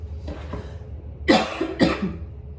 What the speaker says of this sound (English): whenever I do these readings, I sometimes cough